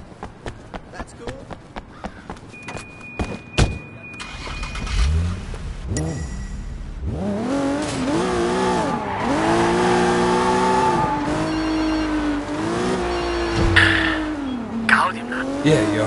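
Car in the open-world action game Sleeping Dogs revving and driving, with tire squeals and skids over a continuous engine drone, preceded by short rhythmic thumps; game dialogue runs over parts of it.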